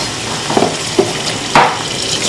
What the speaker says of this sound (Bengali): এগুলো আমি ভাজবো এখন একটু হালকা করে